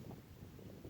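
Sharp outdoor breeze buffets the microphone beside an engine being worked on, producing low, rumbling gusts that pulse unevenly for about a second with no talk.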